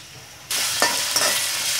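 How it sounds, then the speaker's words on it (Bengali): Ginger garlic paste hits golden fried onions in hot oil while cooking a Bangladeshi ilish fish jhol. The sizzle erupts suddenly and stays steady and bright, with a couple of sharp crackling spikes as it is stirred. "এখন এর মধ্যে আমি 1 চা চামচ পরিমাণ আদা রসুন পেস্ট দিয়ে দিব"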